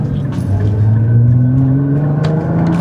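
Amrytrix GTR aftermarket exhaust on a dual-clutch car, revving with a close, steady low burble whose pitch climbs slightly and holds, loud and continuous with no voices.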